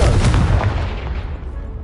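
A loud, close fiery blast from the Confringo fire spell in the Hogwarts Legacy video game, a heavy burst that trails off over about two seconds.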